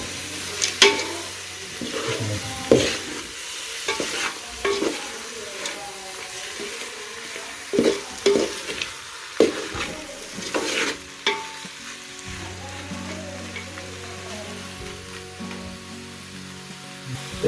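Village chicken stirred and sizzling in a pot over a wood-fired stove, with scraping stir strokes and steady frying hiss running throughout at close range, no talking.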